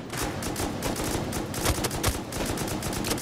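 An M2 heavy machine gun fires in a video game, a continuous rapid stream of loud, close thudding rounds with a steady rhythm and no pauses, set against a helicopter fight.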